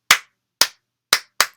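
Four sharp, isolated claps ring out in an uneven rhythm, close and loud with silence between them, as an audience claps along to the Bingo song at a family storytime.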